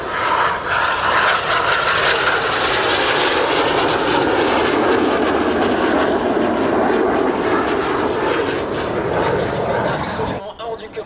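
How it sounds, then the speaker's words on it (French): Jet aircraft fly in formation at the 2023 Avord airshow at Base Aérienne 70, their loud, continuous engine roar filling the air throughout with a voice speaking over it. "They perform a series of barrel rolls in the sky, leaving a snake-like smoke trail in the sky"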